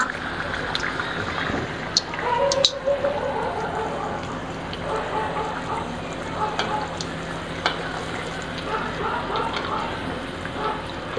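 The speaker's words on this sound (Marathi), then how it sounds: "आपलं तूप इथे छान तापलेलं आहे। आता आपण छान तळूया।" Anarse fry in hot ghee, giving a continuous bubbling sizzle with a few sharp clicks and faint background sounds.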